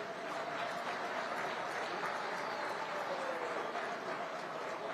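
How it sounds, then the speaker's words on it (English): An audience gives sustained applause in a formal hall at a regional summit of heads of state and government in 2024; steady, moderately distant clapping continues throughout with a faint murmur beneath. "A round of applause, ladies and gentlemen."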